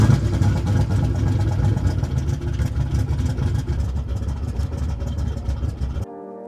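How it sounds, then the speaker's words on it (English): Turbocharged Ford Mustang Fox body engine running loud and steady in a garage for about six seconds with rough idle pulses, then cutting off abruptly into quiet. "Man, this car just sounds wild."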